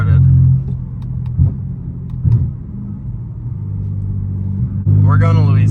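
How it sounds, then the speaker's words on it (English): A BMW F80 M3 engine idles with a deep, loud rumble just after a cold start, dipping and surging in a few short blips before a stronger rev near the end, with no voices. "car started."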